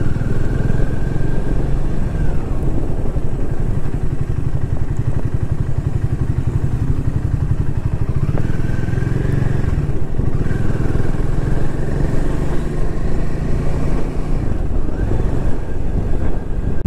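A motorcycle engine runs continuously after starting on a mountain road in North Bengal, a loud steady drone with wind buffeting and clatter, shifting pitch as it rides on.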